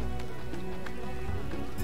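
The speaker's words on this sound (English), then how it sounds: "Oh my, it's raining." Rain falling in The Witcher game, a steady dense patter of drops with a constant hiss throughout, no talk.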